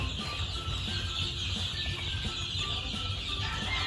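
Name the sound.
gamefowl chickens clucking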